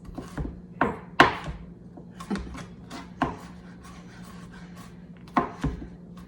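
A kitchen knife strikes a board in sharp, irregular chops, about a dozen scattered hits over several seconds, some louder than others, close and alone against a faint steady hum.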